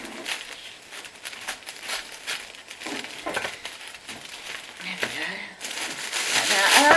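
Paper filler scrunched and crinkled by hand into the base of a small basket for a birthday hamper, with a steady papery rustle and crackle that grows louder toward the end, and a voice talking over it.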